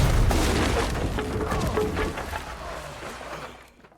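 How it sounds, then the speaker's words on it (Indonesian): A grenade explodes in a film as one loud, deep boom. The blast rolls on as a rumble that slowly fades out over a few seconds, with no voices. "Joe membuka pin granat yang menempel pada tubuh si wanita dan melemparnya"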